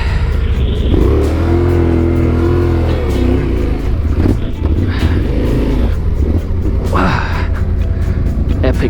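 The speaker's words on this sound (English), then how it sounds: "Starting your big bike in heavy sand is one of the challenges you're facing as a rookie" A big Yamaha Ténéré adventure motorcycle is started and revved in heavy sand, its engine roaring loud and close for the whole stretch, the revs rising and falling.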